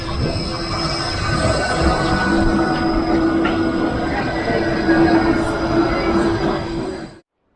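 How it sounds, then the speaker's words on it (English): A Gold Coast tram in Australia rumbles steadily along the rails with a sustained metallic squeal of wheels, loud and close, until the sound cuts off abruptly. "Now going to catch this tram."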